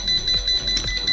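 A MOSKI T-5 laser level sounds its alarm as a rapid, thin, high-pitched electronic beeping repeating in a quick steady pulse.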